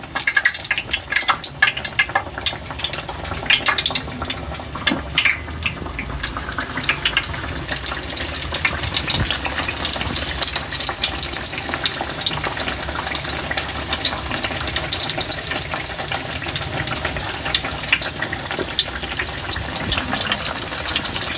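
Onion bajji frying in hot oil, a steady loud sizzle and crackle that runs unbroken and close throughout, with no voices.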